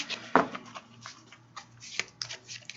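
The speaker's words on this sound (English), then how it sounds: "So shuffling the cards, and I'm looking for a card that either lights up to me in my mind or sticks up out of the deck" A deck of angel cards is shuffled by hand in a quiet room, giving soft, close, irregular riffling and flicking taps with a sharp snap near the start.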